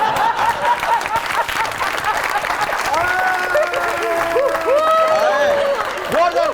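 Audience applause in a Pakistani comedy talk show studio, steady clapping from a crowd with overlapping voices and laughter-like tones running through it, loud and continuous.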